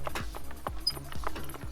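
Horse hooves clip-clopping in the video game Unturned during Wild West roleplay, a steady walking gait of sharp, close hoof knocks repeating alone for the whole moment.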